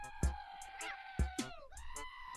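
Minecraft sheep bleat repeatedly in wavering, nasal cries, mixed with sharp game clicks and thumps.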